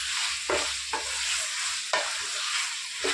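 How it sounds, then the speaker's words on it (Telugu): Chicken pieces frying in a pan with coarse salt for tamarind chicken, a steady bright sizzle broken by a few scraping stirs at irregular intervals, no voices. "ఇట్లా ఉప్పు వేసి కలిపేసి చికెన్ బాగా ఇట్లా ఫ్రై అవుతూ ఉంటుంది."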